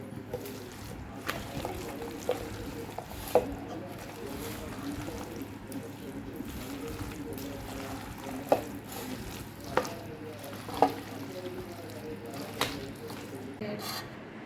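Salted mango pieces mixed into spice paste for a Kerala-style mango pickle: soft, wet rubbing and squelching strokes with occasional sharper clicks, steady and close, under a faint background hum.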